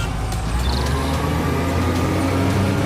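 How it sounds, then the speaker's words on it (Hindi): A truck starting and pulling away, used as a sound effect in a Hindi story about two farmers, with a steady, loud diesel engine rumble throughout and no voices. "गुरजीत ने अपना ट्रक निकाल लिया"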